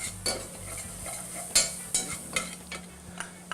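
Flour being stirred and cooked into a roux for shrimp chowder, with a soft steady sizzle broken by a series of sharp scraping strokes of the spoon against the pot, spaced irregularly about half a second apart.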